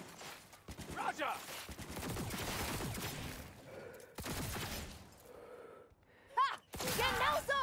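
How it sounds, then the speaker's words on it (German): Rifle fire in Cyberpunk 2077, with bursts of sharp shots in clusters separated by pauses and a voice speaking between them. "Ich schieße jetzt auch scharf."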